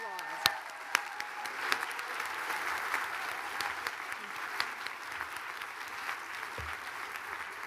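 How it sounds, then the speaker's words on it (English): Sustained applause from a large audience at a graduate commencement ceremony, a dense, even patter of clapping with a few sharper individual claps standing out. "please give them a well-deserved round of applause"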